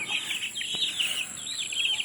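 Young chickens in a backyard brooder, giving a string of high, wavering peeps and soft clucks close by, overlapping one another with no talking.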